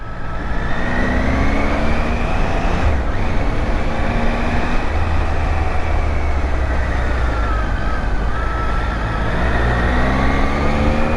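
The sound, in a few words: motorcycle riding on the road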